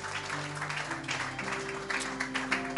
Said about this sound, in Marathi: सो जोरदार टाळ्या प्रभूच्या गौरवासाठी मी वाजूया.